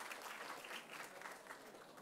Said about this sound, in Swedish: En applåd till våra teckentolkare,